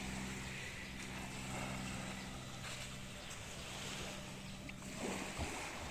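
Surf rolls continuously onto the sand at Teluk Bahang beach, a steady broadband wash with gentle swells. Wind buffets the microphone throughout, and no voices are heard.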